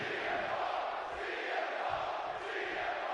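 Wrestling arena crowd in Chicago from the WWE 2K26 video game, a steady dense roar of many voices filling the space, loud and continuous.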